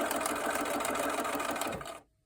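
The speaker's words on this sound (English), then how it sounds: "I'm just going to sew straight down that dashed line" A sewing machine stitches a straight paper-pieced seam with a steady, close whirring hum, running alone for about two seconds before stopping abruptly.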